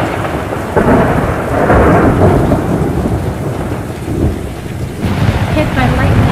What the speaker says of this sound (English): Hit by lightning.